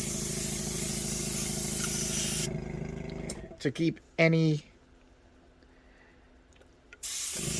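Steady broadband hiss of a spray gun painting inside a spray booth for a few seconds, stopping abruptly; a voice speaks briefly in the quiet, and the hiss resumes at the end.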